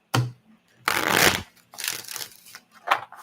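A deck of playing cards is shuffled in several bursts of riffling and rustling, close and clear, with short pauses between and no talking.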